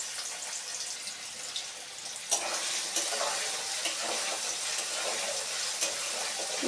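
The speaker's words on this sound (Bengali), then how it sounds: "তেলটা গরম হয়ে গেছে, এবার আমি ডালটা দিয়ে দেবো। এটা হাই ফ্লেমেই থাকবে। আমি দুবারে ভেজে নেব।" Chickpea dal frying in hot oil over a high flame gives a bright, close sizzle that jumps up sharply partway through and keeps crackling steadily, with small pops and no talking.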